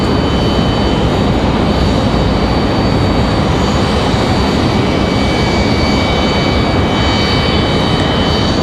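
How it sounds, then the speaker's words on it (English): A Delta Airbus A319 jet departs Raleigh-Durham airport, its engine roar loud, broad and steady throughout, with no voices over it. "The Delta A319 departure that we had a moment ago,"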